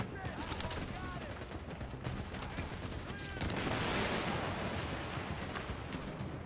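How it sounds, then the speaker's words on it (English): Sustained rapid gunfire in The Division, shots fired into a railing, rattling in dense bursts with some metallic pings, followed by a louder, noisier roar of fire, under faint background talk. "I'm shooting that railing"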